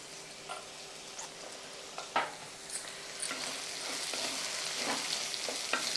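Onions fry in oil in a pan for cowpea uppittu, a soft, steady sizzle broken by occasional light scrapes and clicks of stirring. The cooking is close but fairly quiet, with no talk.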